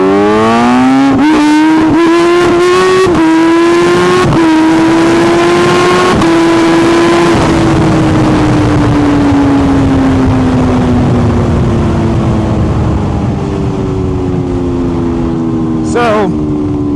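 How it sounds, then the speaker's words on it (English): A supercharged Kawasaki H2 motorcycle pulls hard in second gear. Its loud, close engine wail climbs steeply in pitch, breaks briefly between surges, then holds and settles lower as the ride continues. "Give you guys a second gear pull."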